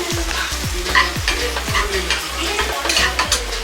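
Food is stirred and mixed in a pan over the heat, a spoon scraping in steady repeated strokes over a continuous sizzle, close and fairly loud.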